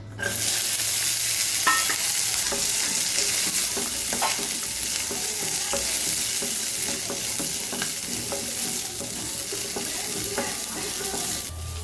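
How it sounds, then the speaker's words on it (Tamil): Small onions and garlic sizzle and crackle steadily in oil in a hot pan, with occasional stirring scrapes, close and continuous throughout. "இப்போ வெங்காயம் பூண்டு வதக்கப்பட்டுருச்சு"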